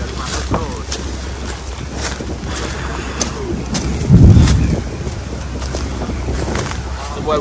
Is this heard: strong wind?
yes